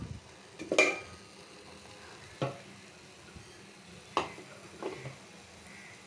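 Onion and green chili fry in a pan for a ridge gourd dish, giving a soft, faint sizzle broken by a few quiet clicks and stirring knocks of a utensil against the pan.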